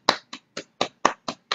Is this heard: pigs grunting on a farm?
no